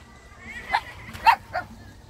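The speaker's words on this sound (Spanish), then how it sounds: "Tienes perritos." Small dogs give a few short, high yips and barks, three quick bursts at moderate distance over a quiet outdoor background at a ranch pool area.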